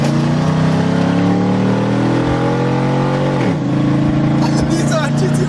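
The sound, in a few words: Hummer H2 engine revving with muffler delete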